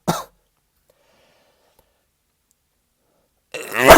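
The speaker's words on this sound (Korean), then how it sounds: "잠시 죄송합니다. 기침." A single short cough at the start, then silence, followed by a brief burst of throat noise near the end.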